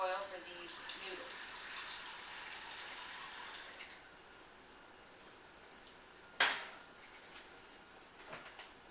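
Water from a kitchen tap runs into a pot to be boiled for noodles. It makes a steady hiss for several seconds, then stops, and a sharp clunk follows in quiet room tone.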